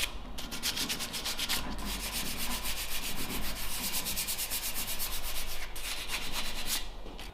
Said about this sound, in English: I'm giving all the areas that I couldn't reach with the grinder just a light sanding